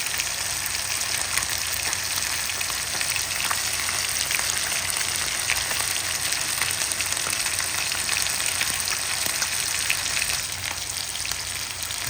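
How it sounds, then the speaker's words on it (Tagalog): Chicken pieces fry in hot oil in a pan for adobong sitaw, a dense, steady sizzle with crackling pops throughout, close and unbroken. "Ayan, i-prito natin para maluto po siya."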